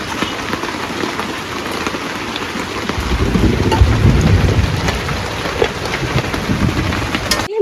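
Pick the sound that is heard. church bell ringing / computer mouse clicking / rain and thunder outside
rain and thunder outside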